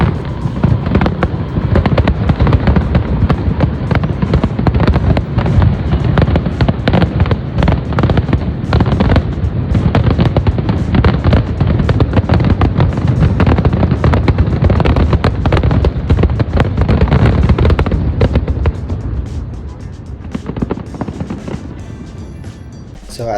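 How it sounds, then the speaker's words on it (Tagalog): Fireworks at a fireworks competition, a dense, continuous barrage of booms and crackles, loud and sustained before thinning out toward the end. "may nakita kaming fireworks. So, meron palang fireworks competition."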